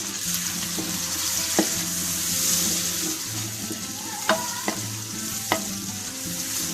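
Aloo palak with green chillies fries in a pan, a loud, constant sizzle close up, punctuated by a few sharp spatula taps and scraping strokes as it is stirred, with no talking.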